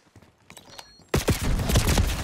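Gunfire in the shooter Black Ops 6: a burst of loud, close shots erupting suddenly after quieter footsteps and movement, continuing in rapid overlapping cracks.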